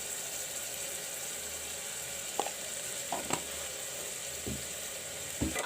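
Masala spices with saffron and chili powder frying steadily in hot oil for a red kidney bean curry, a continuous close sizzle with a few sharp clinks of a spoon against the pan.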